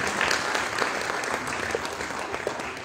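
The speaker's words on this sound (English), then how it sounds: "Maybe have a round of applause for them again on" Crowd applause for the DCM League of Institutions Confluence Band at a school event, a short burst of steady, moderately quiet clapping heard alone.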